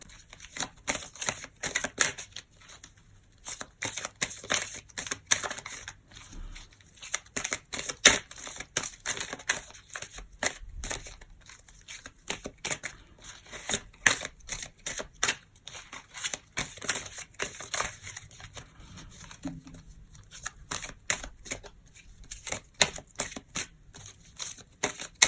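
A deck of oracle cards, the Jeu de votre destin by Esmeralda Bernard, is shuffled and cut for a daily reading. Rapid papery riffles and clicking card flutters come in repeated bursts with short pauses, close and fairly quiet, with no talking.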